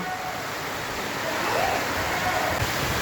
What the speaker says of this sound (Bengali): কেমন বৃষ্টির শব্দ জোরে এসে গেছে